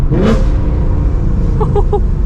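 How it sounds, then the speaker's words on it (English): A Ford Mustang GT V8 engine rumbles steadily, then gives a few quick rev blips as it downshifts, loud and close. "Downshift, so crispy."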